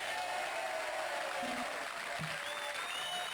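Dense, steady sampled applause from a large crowd in the video game Mother 3, continuous and loud throughout with a slightly processed, looped quality.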